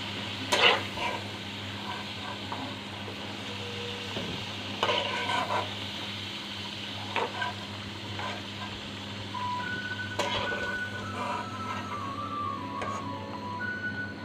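Potato pieces frying in hot oil in a pan, then being lifted out, with a steady sizzle and several scraping, clinking bursts of a utensil against the pan; no voices.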